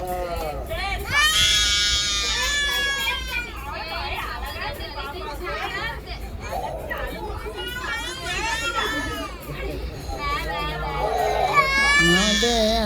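A baby girl cries loudly and continuously after an ear-piercing ceremony at a family temple festival, wailing in rising and falling bursts while adults chatter nearby.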